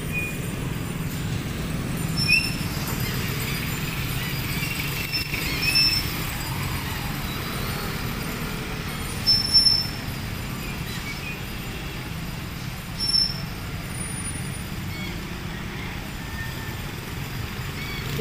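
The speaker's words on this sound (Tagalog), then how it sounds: "Traffic pa din, oh." Road traffic heard from a tricycle makes a steady wide rumble of engines and passing vehicles, with a few faint horn-like tones and brief louder swells.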